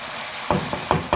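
Finely chopped vegetables fry in a pan for Indian-style chicken fried rice, a crackling sizzle broken by three or four sharp scraping stirs from a spatula, close up with no speech.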